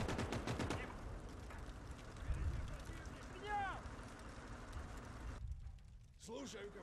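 Bursts of machine-gun and rifle fire from the WWII game Call to Arms: Gates of Hell, set in a 1944 Soviet advance against German forces, crackle at the start and continue more distantly through a busy battle soundscape.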